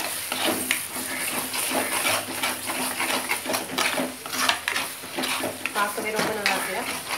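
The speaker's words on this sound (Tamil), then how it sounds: "இந்த மசாலா ஊற்றிட்டு நல்லா பண்ணுங்க" Masala for a mutton head curry with poppy seeds and coconut frying in a pan, a continuous busy sizzle broken by frequent spoon scrapes and stirring clatter, loud and close throughout.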